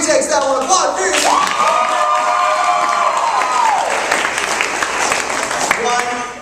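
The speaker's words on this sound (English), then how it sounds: "Take some applause furiously now." Audience at a live comedy or poetry show applauding and cheering, a steady crowd roar lasting several seconds with a held tone or whistle rising through the middle.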